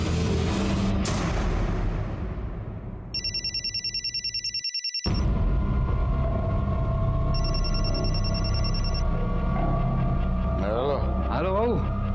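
A telephone rings in two electronic bursts at night in a Crime Patrol drama scene, sharp and close over a steady hum, with a voice speaking in between.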